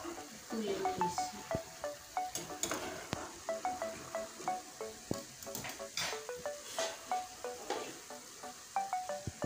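Fried rupchanda fish goes into a curry pan with potatoes, giving off a steady sizzle along with repeated scraping and clinking of a spatula while a person talks.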